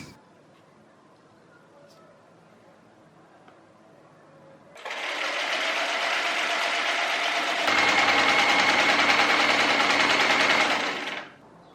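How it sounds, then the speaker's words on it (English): Sewing machine running continuously around the edge of a shirt-fabric collar, a close, steady buzzing whir after a quiet start, growing slightly louder before stopping. "Right sides together, you sew around the outer edge, leaving the neckline open."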